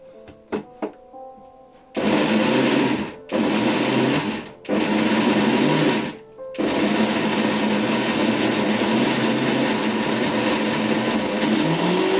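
A mixer grinder whirs loudly in bursts, its blades chopping boneless chicken pieces for vadas, with short pauses between pulses and then a long steady run.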